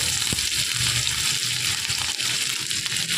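Grated ginger fries in hot oil in a pan for a kohlrabi dish, a steady close sizzle with faint stirring scrapes throughout.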